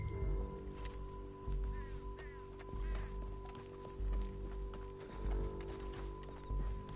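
A horse gallops in Red Dead Redemption II, with rhythmic hoofbeats pounding steadily over a low rumble. The horse is close, and a voice talks faintly over the hooves.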